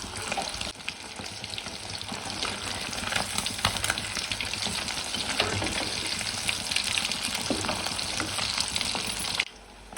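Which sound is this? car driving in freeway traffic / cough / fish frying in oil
fish frying in oil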